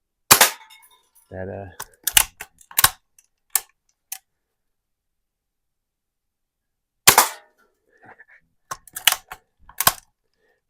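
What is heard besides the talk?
1977 Daisy 1894 BB gun shooting a soda can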